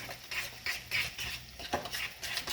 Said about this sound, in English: we're going to mix this through with the sauce right into the meat